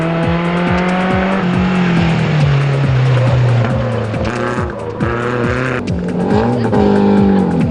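Race cars at the Stella 250 event roar past in a loud, continuous pack, engines revving and shifting with overlapping pitches, close and steady throughout.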